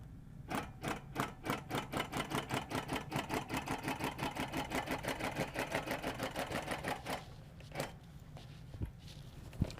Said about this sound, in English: So just basting the very outside edges of this so that it'll lay flat.